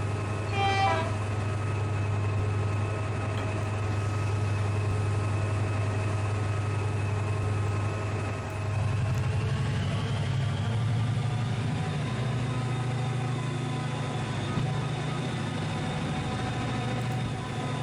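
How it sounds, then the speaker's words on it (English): A Class 68 diesel locomotive in the Trainz simulator, with a steady droning engine and traction motor whine that rises in pitch as it pulls away, loud and continuous, with a brief horn-like tone at the start. "he's blended in that noise, you know, that sort of the traction motor sound as it heads off"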